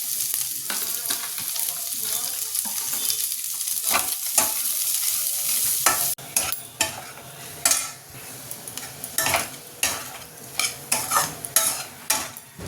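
Chicken and onions fry in a pan with a loud continuous sizzle, then a spoon stirs them, adding repeated scraping and clinking against the metal close by.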